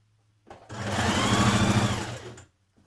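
A sewing machine stitches the side seam of a New Look 6095 summer dress in one short continuous run, a close buzzing hum that rises quickly, holds for about two seconds and stops.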